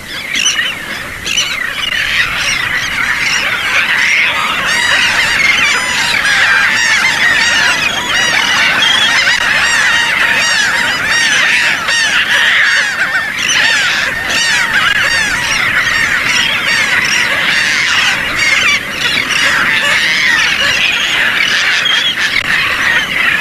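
A loud, dense chorus of birds recorded in the Florida Panhandle, with honking, goose-like calls and many overlapping chirps running steadily throughout, and no voices.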